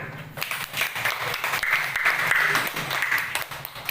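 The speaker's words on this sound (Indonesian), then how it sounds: "beri tepuk tangan." Applause from a classroom of students, a dense, steady run of claps that swells and holds for several seconds, fairly close, with a faint low hum underneath.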